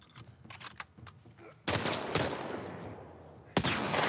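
Rifle gunfire in The Last of Us Part 1, with a few sharp shots early on and then two loud, sustained bursts of noisy firing and echo close by, with no talk over them.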